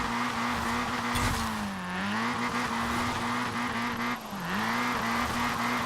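A Toyota Trueno AE86 Enjuku Racing Edition in Forza Horizon 4 drifts, its engine droning steadily under two sharp dips in pitch as the tires squeal through the slides, loud and close throughout.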